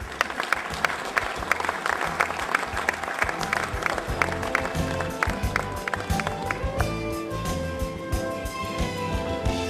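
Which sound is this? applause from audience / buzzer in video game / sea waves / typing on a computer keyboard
applause from audience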